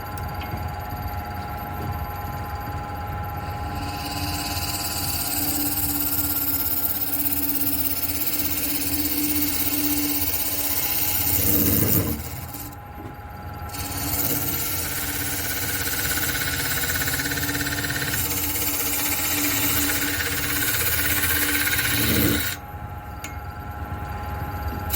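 A wood lathe spins a maple bowl blank at about 780 RPM, a steady droning hum with a tonal whine that holds for most of the stretch, briefly dipping twice as the cut or speed changes.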